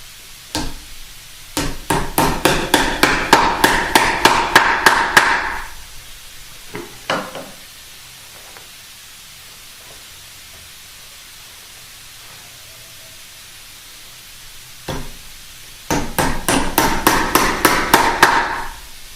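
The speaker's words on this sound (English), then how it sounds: "Now the tacks and the tack hammer are a great way to do this." Magnetic-tip tack hammer driving upholstery tacks into a wing chair frame, two bursts of rapid, evenly spaced sharp taps, about a dozen each, close and loud, separated by a quiet pause with a few scattered knocks.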